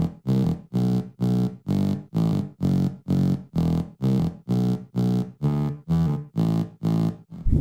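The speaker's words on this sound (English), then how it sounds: "here's the drop bass" A heavy, distorted electronic bass pulses in a steady pumping rhythm, about two hits per second, loud and alone.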